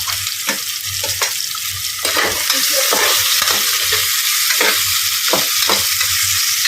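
Onions and green chillies frying in a pan for a village-style vegetable pulao, a loud continuous sizzle with repeated scraping strokes of a stirring spoon at an uneven rhythm, close and without speech.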